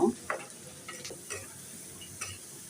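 Beef curry cooking in a pan on the stove, a soft low sizzle with a few light clicks and stirring scrapes spaced irregularly, fairly quiet and close.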